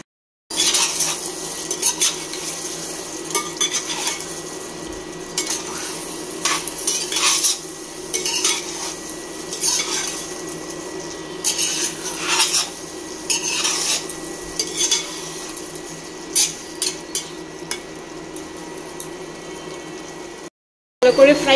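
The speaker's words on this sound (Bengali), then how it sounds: "এখন বাটিগুলোতে জল নিয়েছি, ওগুলো দিয়ে দেবো একে একে।" Bowls are rinsed and their water poured into a pot of browned mutton, with close metallic clinks of bowls and spoon against the pot and splashing pours over a steady sizzle of cooking meat.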